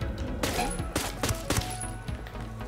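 Gunfire in Ghost Recon Wildlands as a single shot kills an enemy: a few sharp thuds and cracks stand out over a steady game background.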